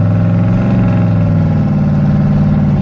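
A 1993 Chevy K1500 pickup's engine hums steadily at close range while the truck drives along, a continuous mid-pitched drone with shifting tones as it changes gear, no voices over it.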